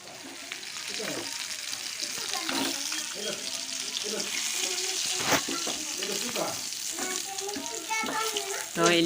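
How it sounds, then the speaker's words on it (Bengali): Fresh small hilsa fish fry in a pan of hot oil, a close, continuous crackling sizzle with spitting pops and occasional stirring scrapes, and some voice in the background. "তো ইলিশ মাছটা ভাজা হয়ে গেছে"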